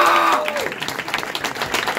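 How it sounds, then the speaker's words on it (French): Crowd applauding a fighter at an MMA weigh-in in La Rochelle, brief steady clapping that follows a short voice and fades slightly toward the end. "on peut l'applaudir"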